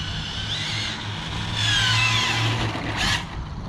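An Arrma Infraction 8S radio-controlled car with a new center differential and gearing, driving on a road: a high electric motor whine with rising and falling pitch sweeps as it accelerates, steady and moderately loud throughout.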